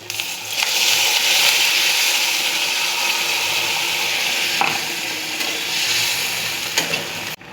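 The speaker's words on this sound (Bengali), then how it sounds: "এবার ঝোলের জন্য এখানে জল দেব" Water splashing into a hot pan of frying fish roe curry with masala, a loud steady sizzle and bubbling throughout, with a couple of brief clinks near the end.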